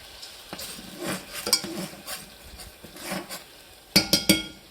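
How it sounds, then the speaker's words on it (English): A spoon stirs brown sugar into a sauce in a pan, giving soft, irregular scraping strokes over a faint sizzle, ending in three quick, louder clinks against the pan. "Then you're going to give it a little stir."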